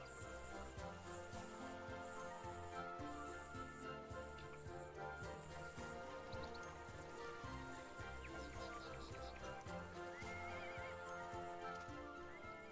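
A donkey in the video game ArcheAge gives repeated braying and whinnying calls, heard quietly under dense, continuous game music with clip-clop hoof sounds.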